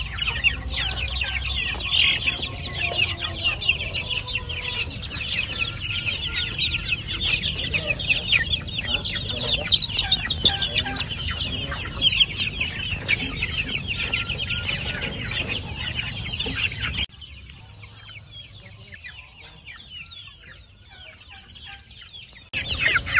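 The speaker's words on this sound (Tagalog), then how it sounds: "Malulusog yung mga manok ni Sir." Young Hubbard chickens, around one month old, clucking and chirping continuously inside a coop, a busy chorus of many birds nearby that grows quieter near the end.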